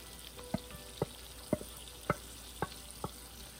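Blended onions fry in a pan with a soft constant sizzle, broken by six evenly spaced sharp clinks of a utensil against the pan, close and without any talking.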